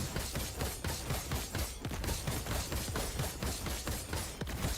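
Earthquake skill explosions in the action RPG Last Epoch erupt in a rapid, dense barrage of thudding, crackling blasts that repeat in quick bursts at fairly steady volume.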